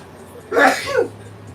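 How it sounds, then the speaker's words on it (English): A single sharp, loud sneeze bursts out close to the microphone during a gym push-day workout, followed by a brief breathy tail. "I'm about to sneeze."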